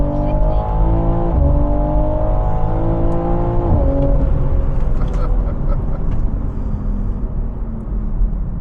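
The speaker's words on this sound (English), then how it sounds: "That was with massive wheel spin." A 2023 BMW M3 Competition launches hard, its engine roaring loud and close as the revs climb through a couple of gear changes, with tire noise from heavy wheel spin throughout.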